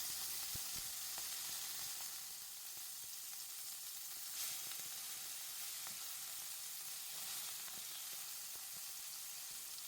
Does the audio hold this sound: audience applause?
no